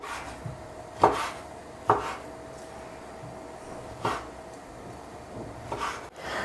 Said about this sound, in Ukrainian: Ось такими невеликими шматочками я буду нарізати курку.